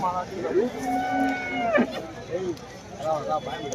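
Cattle moo loudly and repeatedly at a busy rural livestock market in Yaragatti, with long drawn-out calls rising and falling over steady crowd chatter and background talk.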